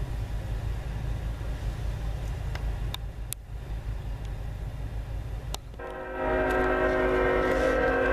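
CN freight train rolling by at Ladysmith, a steady low rumble of railcars throughout, with a louder horn-like tonal blast swelling in during the last two seconds.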